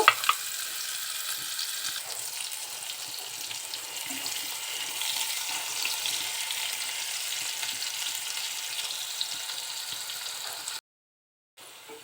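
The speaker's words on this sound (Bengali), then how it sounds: "এখন আমি দিয়ে দিচ্ছি এখানে হাফ কাপ পেঁয়াজ তো এগুলো আমি বেরেস্তা করে উঠিয়ে নেব" Half a cup of onions fries in soybean oil with a steady, dense sizzle that runs close and even for several seconds and then briefly drops out, with no voices over it.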